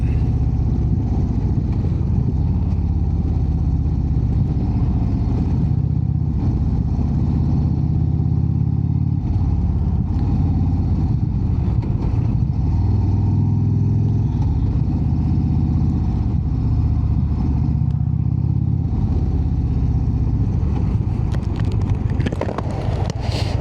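An Indian Chieftain Limited motorcycle rides along, its engine a continuous low rumble with gentle swells in revs and steady wind noise, loud and unbroken throughout.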